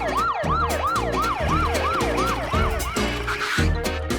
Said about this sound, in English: Right, it's a police car.